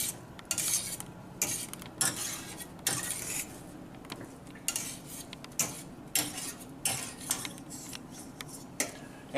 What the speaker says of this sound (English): I want to get that oil all mixed up around in there so nothing sticks to the bottom of the